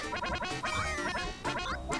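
Donald Duck quacks in rapid, raspy bursts in the video game Quackshot, a close, loud string of squawking cartoon duck calls, several in quick succession over game music.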